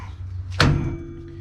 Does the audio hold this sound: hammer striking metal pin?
yes